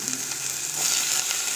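Onions sautéing in a pan as filling for egg-stuffed chapathi, giving a brief, steady, close hiss of frying with no voices.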